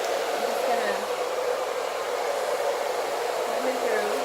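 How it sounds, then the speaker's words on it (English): A handheld blow dryer set to low hums with a steady, even airy rush throughout, close and alone, with no talk. "You're gonna grab your blow dryer and you're just going to, I'm gonna turn on low so you can hear me"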